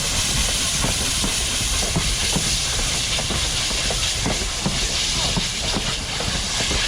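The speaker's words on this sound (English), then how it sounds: "here we have the massive train pulling a lot of carriages" A train rumbles past with a steady roar and hiss, wheels clicking faintly underneath, loud and continuous throughout.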